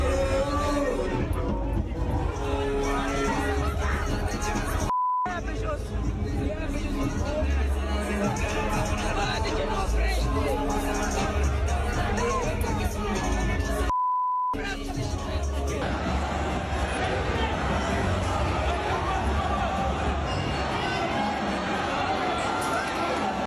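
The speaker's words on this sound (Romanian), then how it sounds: "Sute de tineri s-au îmbulzit să fugă din sală." A panicked crowd of young people stampeding out of a club after pepper spray was released, heard as dense shouting babble and scrambling commotion throughout, with a brief dropout twice and a narrator speaking over parts of it.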